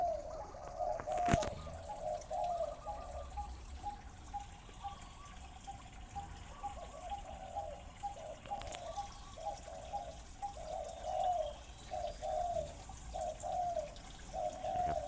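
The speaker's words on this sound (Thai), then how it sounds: "ฟังเสียงนกต่อตัวหลักๆของผมเลยนะครับ 3 ตัวนะครับ" Several decoy doves kept as captive callers coo in a steady, repeating rhythm from a short distance, a continuous string of calls over faint outdoor background noise with no talking.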